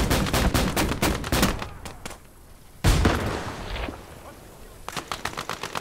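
Artillery and gunfire in the WWII strategy game Gates of Hell, with a field gun and a BT tank, sound as a dense run of sharp loud shots, a brief lull, then a heavy blast and more rapid firing.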